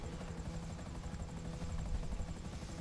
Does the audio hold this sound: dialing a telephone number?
no